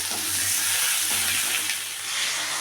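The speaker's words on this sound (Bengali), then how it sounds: "আর এখন টমেটো, জিরে, আদা, লঙ্কা বাটা দিয়ে কষিয়ে নিচ্ছি" A spiced paste of tomato, cumin, ginger and chili fries in a pan, giving a steady, close broadband sizzle with a low hum underneath and no talk.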